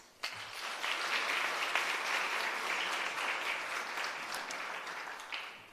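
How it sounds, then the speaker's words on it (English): Workshop audience applauding its learners: steady, fairly distant clapping from a crowd that holds evenly for several seconds, with a few louder individual claps standing out. "can I ask you to give a round of applause to our learners"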